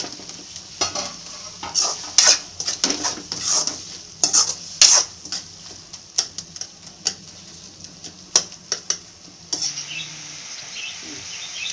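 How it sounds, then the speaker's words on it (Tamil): Tomatoes fried in a pan for crab gravy are stirred with a ladle, giving irregular scraping and clacking strokes over a steady soft sizzle, close and fairly loud, with no talking. "தக்காளி வதங்கிட்டான்னு பார்த்துட்டு அடிக்கடி கொஞ்சம் கிளறி விட்டுக்கணும்."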